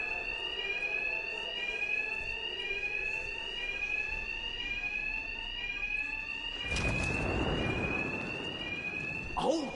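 Alarm ringing in a Batman video game, a loud rapid repeating electronic tone that continues throughout, with a burst of crashing noise near the end.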